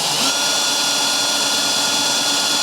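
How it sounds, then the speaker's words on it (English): A power drill whines steadily while drilling out old rivets on a plastic motorcycle body part, a loud, continuous high-pitched grinding with no pauses and no speech. "So now I need to remove the rivets."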